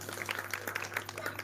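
An audience claps at a Haridasa gathering, a brief burst of scattered hand claps fairly faint under a steady background hum.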